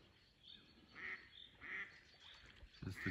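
A live decoy duck used for spring hunting gives a few faint, widely spaced quacks over a quiet outdoor background, ending in a brief rustle.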